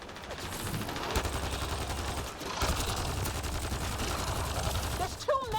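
Dense gunfire in the video game Mass Effect Andromeda, rapid overlapping bursts and volleys that run continuously at close range, with a brief voice cutting in near the end.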